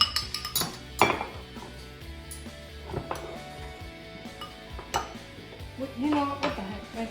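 A spoon clinks and scrapes against dishes while bruschetta is made, producing several bright metallic taps and rattles at an irregular pace, close by and fairly loud.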